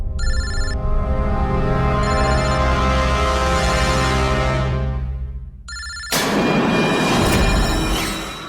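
A telephone rings loudly in repeated bursts with a steady electronic tone, cut off partway before a burst of louder sound takes over.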